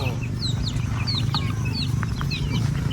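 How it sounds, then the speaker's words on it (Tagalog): Backyard chickens clucking and calling in short repeated bursts at moderate distance, over a steady low background hum. "Yan yung mga manok namin dito, guys."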